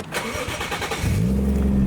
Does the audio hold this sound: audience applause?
no